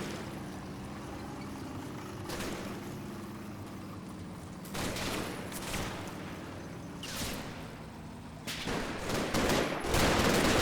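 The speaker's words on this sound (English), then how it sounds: "One platoon is the focus of Jerry's fire." Distant bursts of small-arms fire from German squads in Combat Mission's Operation Epsom battle, several rattling volleys over a steady battlefield rumble, with no talking.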